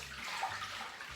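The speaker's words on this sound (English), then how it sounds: "we're going to give it a bit of a swirl to get all of that great yeast at the bottom of the fermenter into suspension" Yeast slurry and beer swirled inside a home-brew fermenter, a soft continuous watery sloshing and gurgle held close and fairly quiet for a brief moment.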